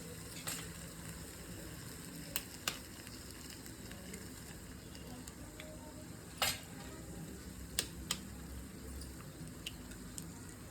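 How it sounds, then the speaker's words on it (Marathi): Four eggs are stirred in a hot pan for egg bhurji, a faint steady sizzle running underneath, with a few sharp spoon-on-pan scrapes and clicks. "चार अंडे चांगलं ह्याला हलवून घ्यायचं."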